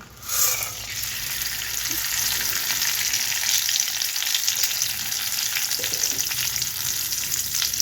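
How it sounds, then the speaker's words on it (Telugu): Seasoning spices, chana dal and peanuts fry in hot oil for a Telugu drumstick-leaf curry, giving a steady, close, broadband sizzle that holds evenly throughout with no talking. "ఇందులో పోపులు, శనగపప్పు, పల్లీలు ఇవన్నీ కూడా వేసుకొని వేయించుకుందాము దోరగా."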